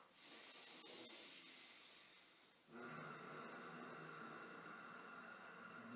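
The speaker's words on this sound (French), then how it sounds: "quand j'inspire, j'ajoute un peu de texture, un peu de bruit" Yoga breathing with a deliberate throat texture: a long, soft hissing inhalation swells and fades, then a second, raspier breath begins and holds steadily, all close and quiet.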